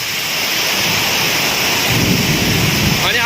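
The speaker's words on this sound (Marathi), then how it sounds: "त्यानंतर मोठमोठ्याने विजा कडकडत आहेत" Heavy monsoon rain pours in a dense, continuous roar in Chiplun, with a low thunder rumble swelling near the end and no voices heard.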